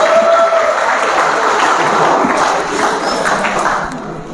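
Applause from an audience welcoming a speaker at a Teachers' Day event at an academy, sustained, dense clapping filling the hall for about four seconds and fading slightly at the end.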